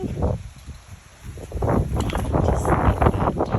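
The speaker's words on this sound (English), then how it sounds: "It's so windy." Strong, gusty wind outdoors buffeting the microphone with a rough, roaring rush that dips briefly and then builds again.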